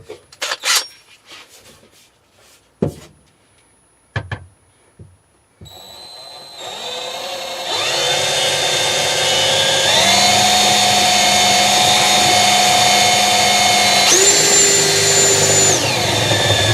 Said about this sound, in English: next we need to go ahead and drill that hole